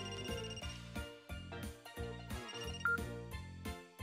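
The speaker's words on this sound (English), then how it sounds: "Phone's ringing." A phone rings in the video game Another Code: Recollection, with a repeating electronic ringtone in short, evenly spaced bursts over a steady musical backing, fairly quiet.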